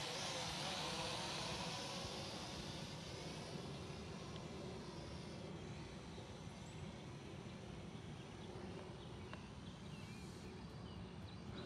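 DEERC D50 toy drone in flight outdoors, a steady high buzzing whir of small propellers that holds fairly even throughout and sounds moderately close.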